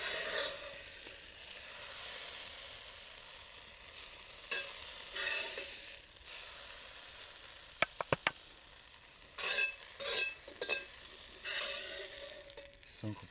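Onions caramelizing in a pan for burgers, stirred with a utensil: a steady soft sizzle runs throughout, broken by scraping stir strokes and a few sharp clinks near the middle.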